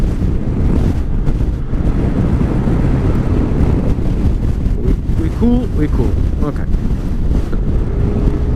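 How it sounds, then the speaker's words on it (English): Strong wind buffets the microphone with constant low roaring and rumbling during a SYM Cruisym scooter test ride, while a few short words are spoken under it. "Seriously, it's very windy"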